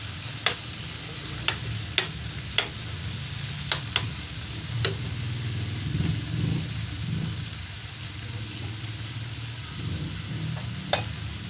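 Tomatoes frying in a pan give a soft continuous sizzle, broken by several sharp clicks and taps from stirring, with a low engine-like rumble in the background.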